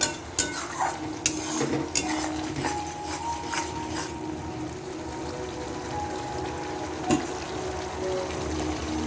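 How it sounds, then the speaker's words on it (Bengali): Curry mixed with ground cumin and coriander in a pan gets stirred, with a spoon clacking and scraping against the metal in a few sharp knocks over a faint, steady sizzle, close by and without speech. "একটু ধনিয়ার গুঁড়ো দিয়ে এবার এটাকে ভালো করে মিশিয়ে নিচ্ছি"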